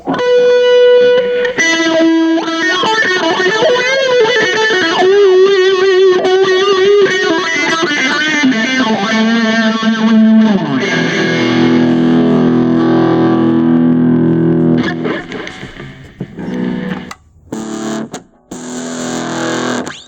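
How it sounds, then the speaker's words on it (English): Heavily distorted electric guitar through a Korg AX5G multi-effects pedal plays a sustained melodic line with bends, then settles into chords before cutting off in choppy bursts near the end. "Here's a nice kind of straight up distortion I've come up with."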